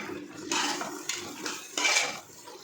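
A metal spoon stirs capsicum and mint in a cooking pan, making several bursts of scraping and clinking against the pan, close and fairly loud, with brief pauses between strokes.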